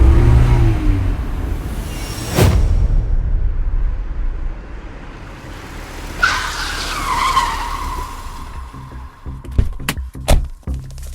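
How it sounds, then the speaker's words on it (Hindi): A car roars past with a whoosh, then tires squeal as it brakes to a stop, followed by a few sharp thuds like doors closing. "जैसे ही गाड़ी ऑफिस के बाहर आकर रुकी"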